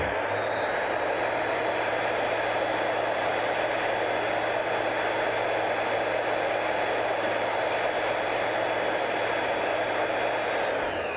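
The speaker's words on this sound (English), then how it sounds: "I've been using the belt sander, because I don't have expensive tools like Norm's got. I got just a belt sander." A handheld belt sander shaping a rounded wooden furniture piece, giving a loud, steady whirring roar with constant abrasive hiss that runs unbroken throughout, with no talking.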